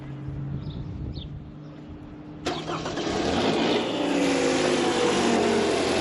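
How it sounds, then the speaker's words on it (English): A used car's engine is started during a pre-purchase inspection. After quiet background sound, the starter cranks briefly and the engine catches abruptly, settling into a steady, close idle. "start the engine"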